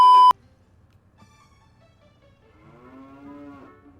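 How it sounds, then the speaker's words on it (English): A short loud beep, then a cow in Zelda: Ocarina of Time lets out a faint, drawn-out low moo over a quiet background. "So we have a cow here now."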